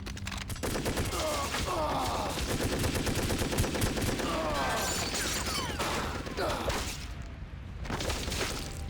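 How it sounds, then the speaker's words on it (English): Two Tommy guns fire in The Godfather video game, loud continuous bursts of rapid automatic gunfire layered with shell and impact clatter, sustained for several seconds before a brief pause and another burst. "I was introduced to 2 Tommy guns."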